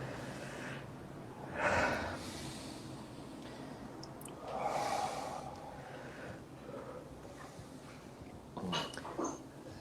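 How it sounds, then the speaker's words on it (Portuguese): Slow, deliberate deep breaths taken during a guided conscious-breathing exercise, three long airy inhalations and exhalations spaced a few seconds apart, close and soft over a quiet background. "para fazermos mais uma respiração consciente antes de voltarmos ao aqui e ao agora"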